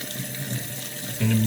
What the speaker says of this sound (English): in here the tank level is filling up